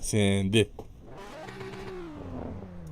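A Nissan 350Z drifting in tandem: after a brief loud shout, the engine revs up and holds a climbing, sustained drone under faint background noise.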